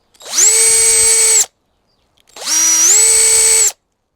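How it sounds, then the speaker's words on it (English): A power drill widens a hole to fit an M6 bolt in two loud, close bursts of about a second each, a steady high whine with a brief pause between runs. "because I'm using M6 bolts, I'm going to just widen up the hole a bit."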